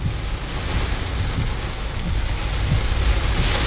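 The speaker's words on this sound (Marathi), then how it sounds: "आता 4:30 वाजल्यापासून सोलापूर शहरात मोठा पाऊस सुरू झालेला आहे" Heavy downpour over Solapur city, a steady dense roar of rain close and loud throughout, with no voices.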